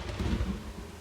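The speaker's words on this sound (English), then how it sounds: "A lightning strike. It seems to have struck an area near the forest." Thunder from a lightning strike near a forest, a brief deep rumbling roll, loud and low, with no voices.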